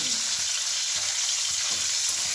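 Vegetables fry in a pan in a home kitchen, giving a steady, close sizzle and crackle with occasional soft stirring scrapes and no talking.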